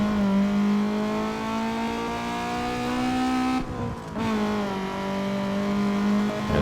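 Racing car engine in Need for Speed: Underground 2 holding a high steady tone, briefly dropping off as a gear changes, then climbing again in a sustained rising whine.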